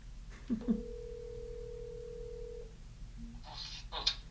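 Phone ringing with an incoming call, a short electronic tone over a low background hum, followed by brief higher chirps, fairly faint and close.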